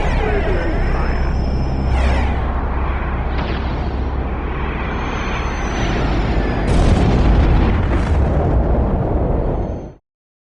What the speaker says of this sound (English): Target status explosion and fire.